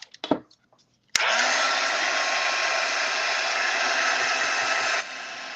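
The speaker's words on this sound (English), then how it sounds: "Okay, heat gun." A heat gun switches on with a sharp click and blows a loud, steady hot-air roar across a small gel plate print, running for about four seconds before cutting off.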